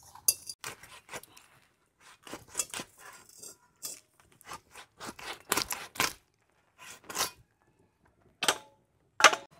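Katla fish head being cut in two in a kitchen, a series of sharp cracking and crunching knife strikes and clinks, irregular and close, with no talk.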